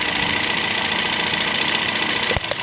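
A Toyota Vios engine with a rough idle and no power, shaking as it runs, holds a steady, dense mechanical drone up close, then dips and stumbles near the end with a couple of sharp knocks.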